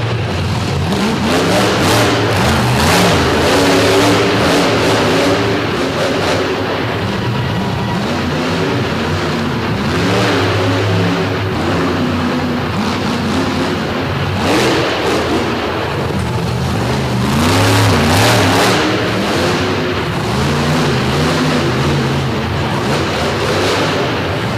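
Toxic, a monster truck, performs a freestyle run at a DuQuoin, Illinois show, its engine roaring loud and continuous with repeated rev surges and pitch sweeps over about twenty-five seconds. No voices are heard.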